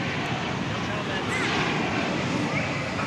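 American Airlines Boeing 737-800 jet airliner in retro livery at DFW Airport, a broad steady roar of jet engines with wind rush, constant and fairly loud throughout.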